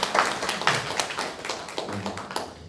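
Congregation clapping in a church praise service, a loose scatter of sharp individual claps at moderate level, irregular and fading slightly toward the end.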